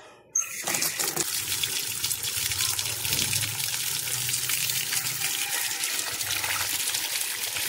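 Soil-caked roots of a tamarind bonsai soaking and being swished in a basin of water, a steady close sloshing and trickling after a sudden plunge, running without pause.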